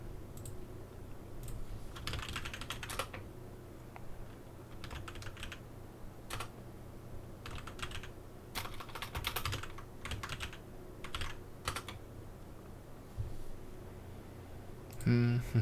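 Terminal command being typed on a computer keyboard, clusters of quick clicking keystrokes in short bursts separated by brief pauses, close and fairly quiet.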